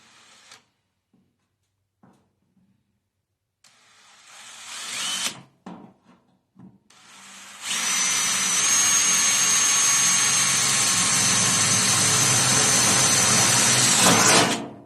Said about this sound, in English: and then you just put your drill bit where the hole's at.